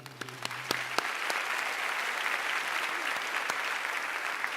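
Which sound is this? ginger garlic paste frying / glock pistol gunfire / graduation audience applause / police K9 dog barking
graduation audience applause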